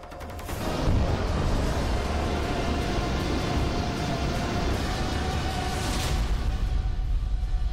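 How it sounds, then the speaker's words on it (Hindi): A massive, sustained rumbling roar of a sea mine exploding in deep sea swells in after a moment and holds steady, broad and heavy, like water and debris churning. "गहरे समंदर में विस्फोट, वीडियो नंबर 2।"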